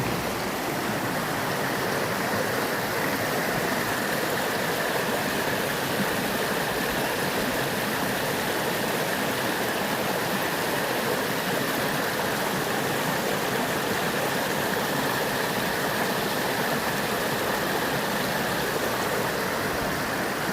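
A mountain stream on Mount Baldy rushes steadily, a close, dense and unbroken wash of flowing water that holds the same loud level throughout with no voices.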